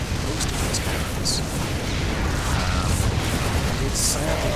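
Explosions rumble as cannons are destroyed in a strategy video game match, a dense, continuous low booming wash with scattered sharper bursts throughout, loud and sustained.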